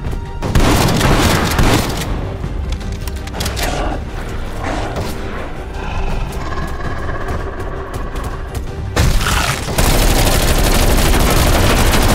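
Machine gun fire and booming blasts in Call of Duty Black Ops Cold War zombies on Firebase Z, loud continuous rattling bursts and heavy explosions filling the whole stretch, strongest at the start and near the end.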